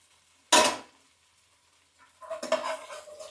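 Fish pieces frying in a pan give a short, sharp burst of crackle, then quiet, then a longer, softer sizzle with faint stirring.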